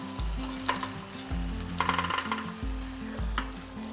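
Fish roe dumplings hit a hot pan along with water, giving a steady close sizzle and bubbling with a few light scrapes and clicks, and no one speaking.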